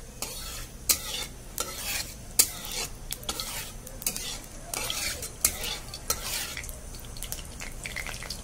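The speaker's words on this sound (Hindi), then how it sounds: "उसके बाद हम मेथी डाल देंगे, थोड़ा ब्राउन हो जाएगा।" Fenugreek seeds sizzle and fry in hot oil as a tempering for bottle gourd curry, with steady crackling under repeated close spoon scrapes and clinks against the pan.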